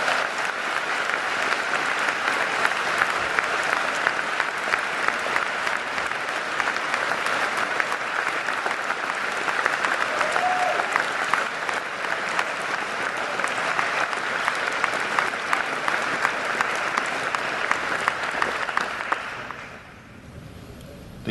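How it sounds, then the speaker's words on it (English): Steady, sustained audience applause fills a school senior prizegiving hall for about twenty seconds, a dense even clapping that fades out abruptly at the end. "The generous applause always makes me feel better too."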